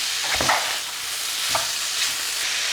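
Raw mince for chilli con carne fries loudly in a pan while being stirred, a continuous sizzle broken by a few scraping spoon strokes, with nobody talking.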